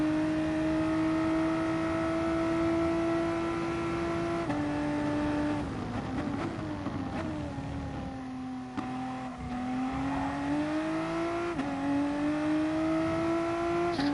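A race car engine in a racing video game whines loud and continuous, its pitch sliding down under braking and climbing again as it accelerates out of corners, with no talking.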